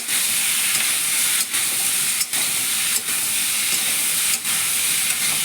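Vegetables and small fish with turmeric cook in a pan, giving a loud, even, hissing sizzle broken by four or five brief dips as the food is stirred and turned.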